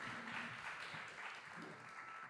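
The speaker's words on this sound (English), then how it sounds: "Big applause." An audience at a European AI conference forum gives a short round of steady applause, very faint and distant, with no speech over it.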